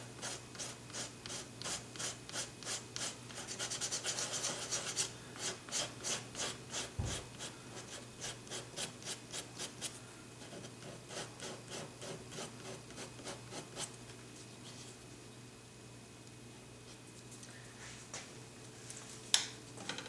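Bondo body filler being worked down by hand on a car fog light while still slightly soft, heard as a steady run of close, rhythmic rasping strokes that fade to quieter, sparser scraping, with one sharp knock near the end.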